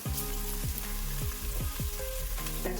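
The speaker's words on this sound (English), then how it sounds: "And now you can add the garlic." Garlic frying in hot oil in a pan with chicken feet and onions, a loud dense sizzle broken by regular stirring scrapes that recur about every half second.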